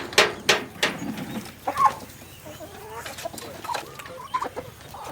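A hen brooding a clutch of eggs in an insulated nest setup clucks in several short bursts, loudest early on, then softer scattered calls over a quiet farmyard background.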